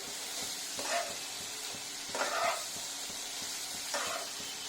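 Mushrooms fry in butter with black pepper, giving a constant close sizzle broken by three brief stirring scrapes spaced a second or so apart.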